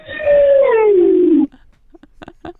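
A voice imitates a wolf howl: one long, loud, close howl that slides gradually downward in pitch, then breaks off into a few faint, short sounds.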